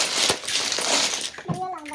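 A peso coin dropping: a brief bright metallic clink and rattle amid busy noise, with a voice and other talk close by.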